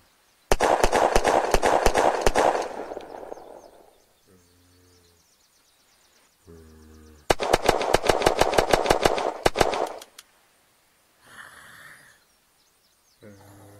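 Pistol fire from the video game Unturned, including the Ace and Avenger handguns: two loud bursts of rapid, evenly spaced shots, each lasting a couple of seconds. Short quieter game sounds follow each burst.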